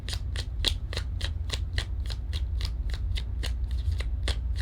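Tarot cards shuffled by hand in a rapid, regular series of crisp riffling snaps, about three per second, close and clear over a low background hum with no talking.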